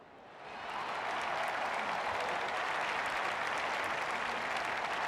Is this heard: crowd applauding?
yes